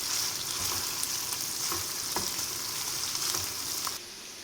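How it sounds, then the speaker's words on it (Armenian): Sausage sizzling in a frying pan for Italian fusilli sauce, a steady loud hiss with occasional pops and crackles, dropping slightly in level near the end. "Այ տեսեք, սկսվել է տապակվել, մի լավ տապակելու ենք"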